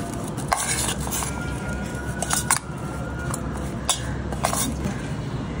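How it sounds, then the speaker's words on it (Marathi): A spoon stirs and scrapes through spiced cauliflower stuffing for gobhi paratha in a metal bowl, giving repeated close clinks and scrapes over a soft, continuous background hiss. "आणि आता याला आपण चांगलं मिक्स करून याला बाजूला ठेवून देऊया, म्हणजे मसाला नीट आपल्या फ्लॉवरला लागेल"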